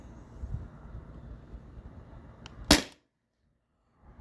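A modified Sabre 68 HDL paintball marker running on CO2 fires one sharp, loud shot close by, with a low rumbling background before it and near silence after.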